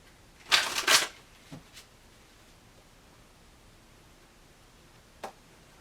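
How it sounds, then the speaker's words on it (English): Tarot cards being shuffled by hand: a brisk riffling burst near the start, a couple of faint soft taps after, then quiet with one small click near the end, close and alone. "One more shuffle."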